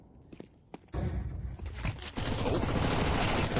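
Submachine gun fire in the Counter-Strike video game, starting with a few sparse sounds, then sustained loud bursts of rapid automatic shots in a tense match.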